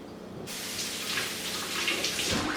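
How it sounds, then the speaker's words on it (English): A kitchen tap suddenly turns on and water runs steadily as hands are washed, a loud, close, continuous splash with no talk. "I'm going to wash my hands real quick."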